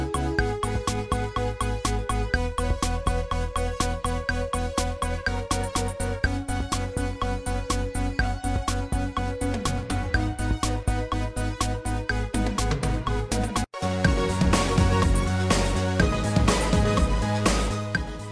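A multitrack song arrangement plays back in Ableton Live, a dense full mix with steady pulsing beats, a brief dropout near the end, then a louder, fuller section, with no talking.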